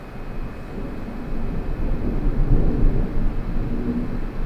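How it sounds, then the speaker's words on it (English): A deep, rolling rumble swells and fades like distant thunder, heard without talk over a steady low background roar. "there is a crazy thunderstorm outside my house right now"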